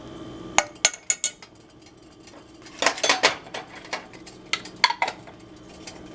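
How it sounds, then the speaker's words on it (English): A utensil stirs honey buffalo sauce with minced garlic in a pan, giving a few sharp metallic clinks and scrapes in scattered bursts, close and fairly clear over a quiet background. "And then we're just gonna stir"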